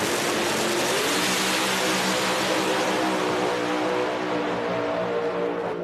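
No-prep drag race cars launch and race at National Trail Raceway, a loud, dense, sustained engine roar with rising harmonic whine, heard from close by without talk.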